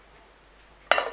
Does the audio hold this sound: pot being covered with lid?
yes